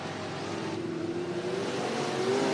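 Race cars circling the dirt oval at Cottage Grove Speedway in Oregon, a continuous droning engine roar that swells slightly toward the end, heard from a distance with no talk.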